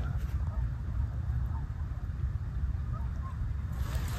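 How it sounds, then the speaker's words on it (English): A large flock of geese, thirty or more, honking somewhere out in the open during a goose hunt, faint and steady over a low rumbling background. "it's a lot of geese"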